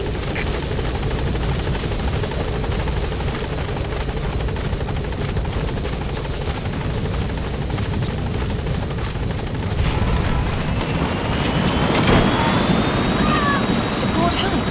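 Helicopter rotor thudding steadily at close range in Metal Gear Solid 5, a support chopper arriving for extraction, loud and continuous with engine whine rising toward the end, under scattered game voices.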